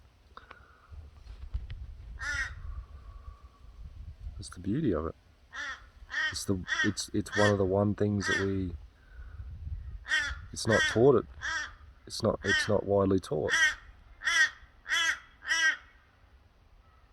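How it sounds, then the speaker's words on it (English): A crow caws repeatedly outdoors, a string of sharp, fairly loud squawks in irregular bursts, heard under and between a man's calm speech. "listen to the crow in the background"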